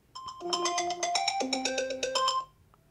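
A bright, melodic iPhone ringtone preview plays a short rising pattern of chiming notes for about two seconds, then stops cleanly.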